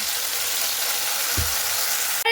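Spices sizzle and fry steadily in leftover oil from fried potatoes, a close, even crackle that continues throughout, with one brief low knock partway through.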